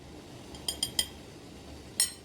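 Spoon stirring dandelion molasses syrup in a pot, three quick metallic clinks against the side followed by one more after a short pause, quiet and close.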